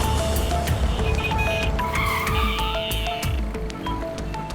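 A car in a tense crime-drama scene brakes hard, tyres squealing and skidding under engine noise before slowing to a stop, with no talking.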